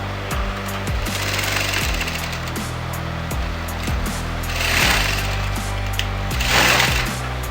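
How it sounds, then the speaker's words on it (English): Sewing machine stitching blouse shoulder seams together, a loud, close, steady mechanical chatter of rapid needle strokes with a constant motor hum throughout. "you're going to sew that together"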